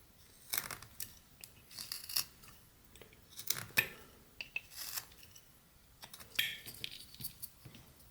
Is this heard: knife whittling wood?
yes